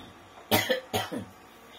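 Two sharp coughs in quick succession, close and fairly loud, with no talking around them.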